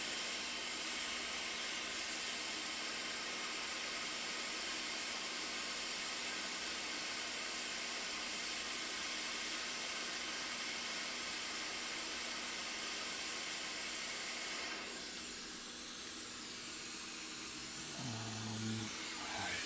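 A hot air rework station blows steadily while desoldering parts during recapping of a Macintosh Classic II, a faint, even hiss with a constant whine that shifts near the end.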